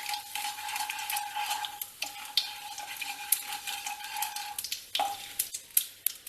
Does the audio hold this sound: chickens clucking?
no